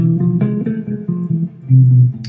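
Guitar notes played one after another in an ascending harmonic minor scale, about eight clear plucked tones in steady succession, close and alone with no talking.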